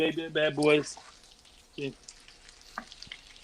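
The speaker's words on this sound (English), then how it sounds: "I'm stir frying these" Cheese-filled hot dogs stir-frying in a kitchen pan give a steady sizzle and stirring scrape beneath voices talking close by.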